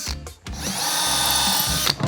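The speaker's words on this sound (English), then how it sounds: "I'm gonna pre-drill these holes to attach the handles." A power drill pre-drills holes in wood for the handles of a DIY bathtub tray, a close, loud whirring burst lasting about one and a half seconds after a couple of quick starts.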